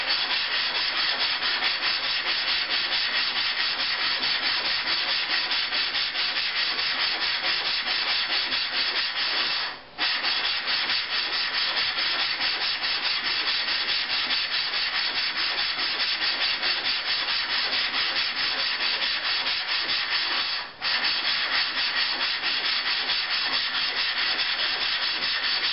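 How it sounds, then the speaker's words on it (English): Abrasive grit grinds a glass telescope mirror blank against a tool, a steady continuous gritty scraping rub that carries on for the whole stretch, broken by two brief pauses near the middle and toward the end. "Now, eventually, you won't hear that noise. It'll get quieter and quieter. It means your grit has been used up."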